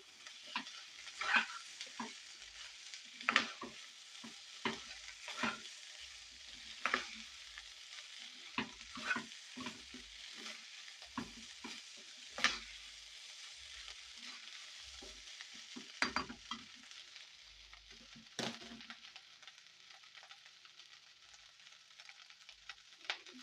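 Sweet corn and carrot rice frying in a pan over high heat, a continuous sizzle broken by repeated scraping and clanking strokes of a spatula stirring the rice at an irregular rhythm, close by with no voices.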